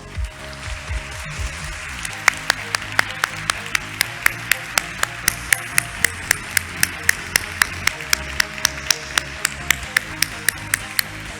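An audience at a lighthouse event gives a warm round of applause, with steady clapping running throughout and a run of sharp, evenly spaced metallic pings or taps cutting through it.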